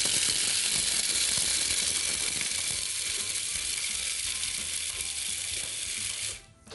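A food processor whirs loudly and continuously while chopping about 100 grams of unpeeled pistachios, a harsh grinding rattle that holds steady for several seconds, then cuts out abruptly near the end.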